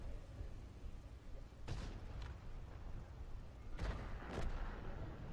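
Distant artillery shells thud and boom in World of Tanks, two or three muffled blasts over a constant rumbling battlefield bed.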